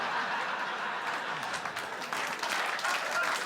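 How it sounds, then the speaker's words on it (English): A comedy club audience claps at an old-school 1980s British stand-up show, with steady, dense applause and scattered chuckles and laughter throughout. "We're clapping for you."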